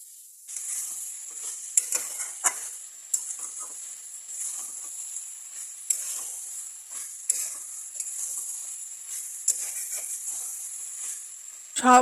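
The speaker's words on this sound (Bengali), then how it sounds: "পেঁয়াজটা গোলাপি করে মাখানো মাংসটা দিয়ে সুন্দর করে নেড়ে চেড়ে কষিয়ে নিয়েছি" Marinated poultry chicken and pink-fried onions sizzle in hot oil in a kadai wok, a continuous loud frying hiss punctuated by repeated stirring scrapes and clacks of the spatula.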